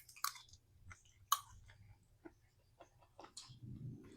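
Someone chews a bite of home-cooked food close to the microphone, with a few soft, irregular crunchy bites and smacks over quiet background noise.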